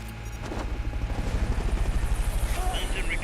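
A helicopter in the video game Metal Gear Solid: Peace Walker thrums with fast, rhythmic rotor pulses that grow louder and closer, with faint game sounds mixed in.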